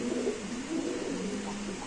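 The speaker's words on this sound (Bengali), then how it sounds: "এটা একটা বড় সাইজের কবুতর" Large racing pigeon giving low, soft coos close by, a brief steady murmur over a faint background.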